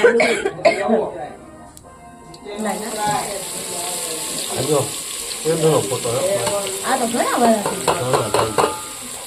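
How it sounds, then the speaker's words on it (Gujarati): Chopped onion drops into hot oil with cumin and asafoetida, and a bright, continuous sizzle starts partway through and carries on beneath people talking, with a cough near the beginning. "જીરું થોડીક હિંગ નાખી દીધી. લાવો ડુંગળી નાખી દઈશું."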